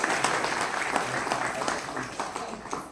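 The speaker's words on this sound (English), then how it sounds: "Let's welcome him with a nice golden round of applause." Audience applause welcoming a speaker to the floor at a film master class for Goan filmmakers at the 53rd IFFI 2022, a steady dense clapping that fills the room throughout, with some voices underneath.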